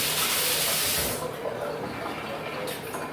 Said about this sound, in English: Let me rinse my hands so they don't slip on my